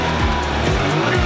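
A Suzuki Alto Works RS-R turbo engine runs around 3,000 RPM under boost, giving a loud, close, steady droning hum with rising and falling swells as the revs shift.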